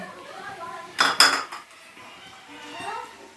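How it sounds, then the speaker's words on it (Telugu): Tomatoes tipped into a pan for prawn curry make a short clattering burst of utensil and pan knocks, close and fairly loud, with quieter kitchen sounds before and after. "ఇప్పుడు టమాటాలు వేసుకుందాం"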